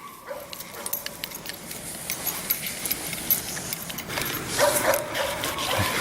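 A blood-tracking bear dog working a trail outdoors over about 600 yards, with faint whimpers and yips amid rustling movement and jingling gear, the sounds soft and intermittent at a moderate distance.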